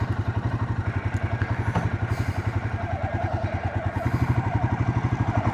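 Royal Enfield Himalayan 450 motorcycle pulling away on a training ride, its engine thumping in a steady rapid pulse, close and fairly loud, with clatter over the throb.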